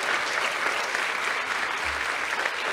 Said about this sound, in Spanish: Aplauso para ustedes